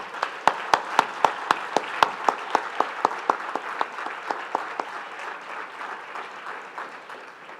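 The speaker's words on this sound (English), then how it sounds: "Can we clap for those people?" Audience applause at a breast cancer awareness walk kickoff on Long Island, with a few sharp, distinct claps standing out over a steady wash of crowd clapping that slowly thins and fades.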